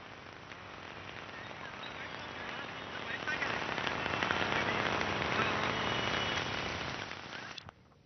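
Heavy monsoon rain pouring down in Mumbai, a dense, steady hiss of rain that swells toward the middle and cuts off abruptly near the end.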